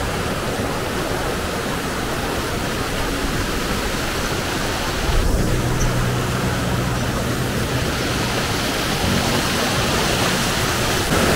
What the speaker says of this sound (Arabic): هنا في منبع النهر الأزرق الذي يجتاح الأروقة والأجواء